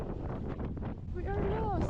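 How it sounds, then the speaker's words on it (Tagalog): Strong wind buffets a microphone outdoors in Bali, with a steady broadband rumble throughout and a voice talking briefly over it near the end. "So windy"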